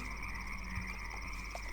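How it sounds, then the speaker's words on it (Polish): Frogs croak steadily in the video game Gothic, a dense chorus of overlapping calls under a constant buzzing ambient drone, with no talking. "ja tu na razie tylko słyszę wzmożone rechotanie żab"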